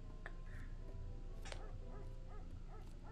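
Dogs barking in a short scary video game set in an empty house, a few faint yips and whimpering barks scattered over a steady low ambient hum.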